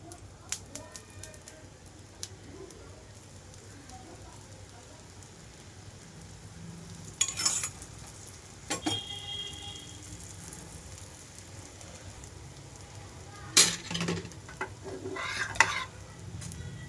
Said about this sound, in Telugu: మళ్ళీ హై ఫ్లేమ్లోకి టర్న్ చేసుకొని ఆయిల్ అప్లై చేస్తున్నాను